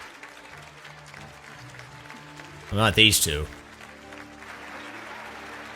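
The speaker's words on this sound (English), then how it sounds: "And for some reason, the people clap." A short burst of crowd applause in the video game Final Fantasy XII rises suddenly and fades after under a second, with speech before and after.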